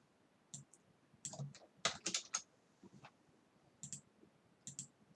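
Keystrokes on a computer keyboard entering a spreadsheet formula, scattered clicks in short bursts with pauses between, close and fairly quiet, no talking.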